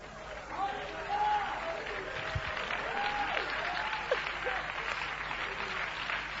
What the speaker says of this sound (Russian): начните аплодировать и радоваться